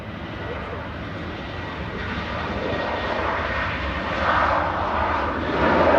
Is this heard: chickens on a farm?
no